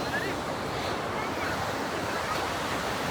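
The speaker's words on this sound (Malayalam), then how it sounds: "അപ്പം ഇത് ഈ കടൽ മൊത്തം കോഴിക്കോട് കടലാണ് ഗൈസ്." Sea waves at Kozhikode beach near a river mouth, a continuous loud wash of surf mixed with wind buffeting the microphone, steady throughout with no clear breaks.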